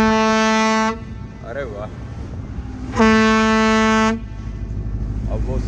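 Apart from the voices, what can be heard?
ship's horn sounded twice by the captain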